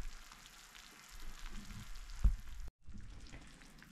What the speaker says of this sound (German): Jetzt köchelt das Wasser, dann können wir den Herd auf niedriger Stufe drehen